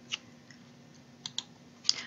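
Arrow keys on a computer keyboard are tapped while arranging a monogram in Cricut Design Space, a few sparse, quiet clicks spaced irregularly over a faint steady hum, with no voices.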